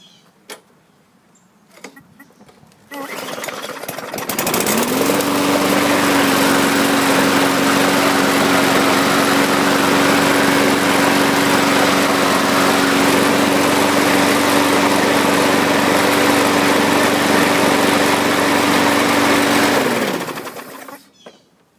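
A Poulan Pro self-propelled lawn mower, bought as a non-runner, cranks after some sputtering and then runs at a steady, loud, even drone close up for about fifteen seconds before shutting off and winding down.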